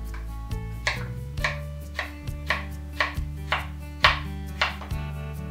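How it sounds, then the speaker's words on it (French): Peanuts being coarsely chopped with a knife on a board, about a dozen sharp, close knocks in a quick, slightly uneven rhythm over a low steady hum, with no talk. "Nous allons ensuite hacher grossièrement au couteau les cacahuètes"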